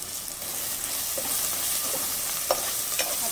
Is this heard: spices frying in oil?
yes